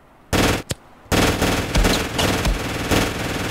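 Gunfire in the Ravenfield video game: two quick loud bursts, then sustained rapid automatic fire with punchy repeated shots, close and dominant with no talk.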